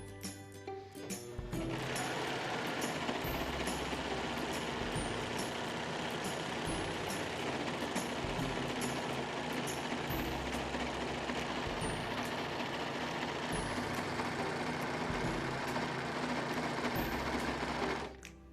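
An SS 320 overlock sewing machine stitches fabric in a fast, steady mechanical whir with a dense rapid clatter, loud and close, running continuously for most of the stretch before stopping, no talking.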